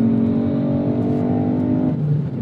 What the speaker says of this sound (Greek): Για να μπει νωρί στον γκάζι και να βγει με φόρα στην επόμενη ευθεία